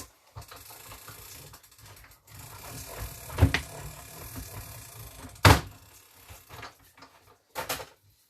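A paper crafting machine is cranked in a card-making session, giving a mechanical rolling grind with a few sharp clicks and knocks, close and moderately loud.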